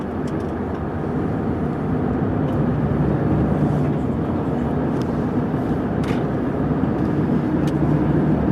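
A Scania R 500 V8 truck hauls a load of over 40 tonnes, its engine a dense, continuous low drone that holds steady and loud throughout with no break.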